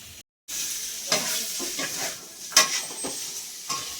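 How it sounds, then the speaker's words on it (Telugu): Garlic frying in oil in a pan, a bright continuous sizzle with repeated stirring scrapes and one sharper clink, close up with no talking. "మనకి వెల్లుల్లి బాగా ఫ్రై అయింది కదా"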